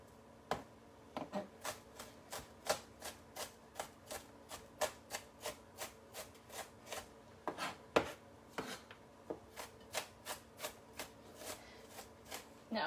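A knife fine-chopping shallots on a board, a steady run of crisp, close taps at a brisk, slightly uneven rhythm that keeps going without pause, with no talking over it.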